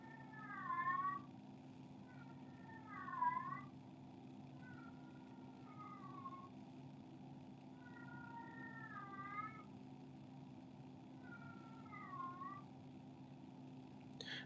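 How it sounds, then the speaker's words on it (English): A house cat meows repeatedly indoors, with about six drawn-out, wavering calls spaced a couple of seconds apart over a steady low background hum. No one speaks. "This fool walks around the house all night long meowing."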